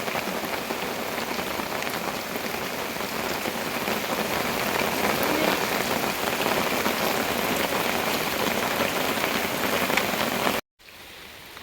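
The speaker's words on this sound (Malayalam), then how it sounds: "മഴ ഏതാണ്ട് ശമിച്ച പോലെയായി" Steady, loud rain pours onto surfaces at a house among coconut trees, a constant dense patter with no voices, cutting out abruptly near the end.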